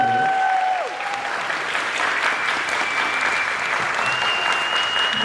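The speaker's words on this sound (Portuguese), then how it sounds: "então uma salva de palmas para eles" Steady, dense applause from an audience at a school cultural showcase, thanking event sponsors; it fills the whole stretch at an even loudness, with a couple of brief whistle-like tones near the start.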